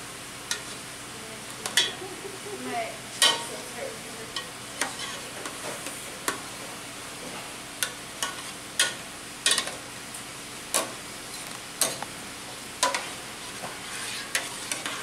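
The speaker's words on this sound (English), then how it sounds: "The Alfredo sauce, you have to keep stirring, all the time, never stop." Alfredo sauce with melting butter is stirred constantly in a pan: a soft low sizzle under a steady series of sharp spoon taps and scrapes against the pan, roughly one every second, close and clear.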